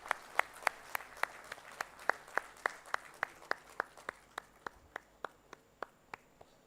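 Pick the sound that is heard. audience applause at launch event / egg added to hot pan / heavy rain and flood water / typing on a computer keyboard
audience applause at launch event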